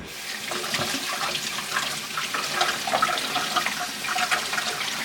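Cold tap water runs over a cooked lobster tail in a kitchen, making a loud, steady rushing splash that continues without pause or speech.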